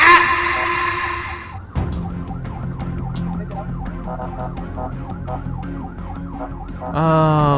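An ambulance siren wails in repeated rising and falling sweeps amid road traffic noise, with a louder horn-like tone at the start and end.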